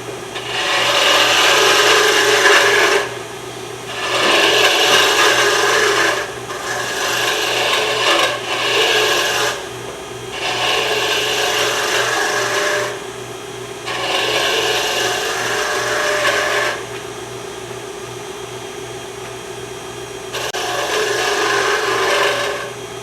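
Repeated bursts of abrasive sanding against a wooden pen blank spinning on a lathe, each lasting a few seconds with short pauses between, over a steady motor hum.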